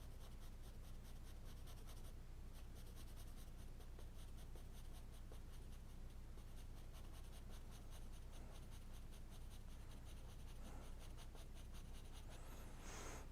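A soft graphite pencil scratches steadily across drawing paper, building rich dark tones in a landscape sketch; a continuous, faint, close hiss of strokes with no talking.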